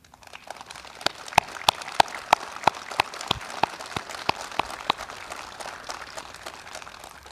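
Applause at a national commemoration ceremony, scattered sharp claps building into a sustained, moderately distant patter of many hands across the whole span.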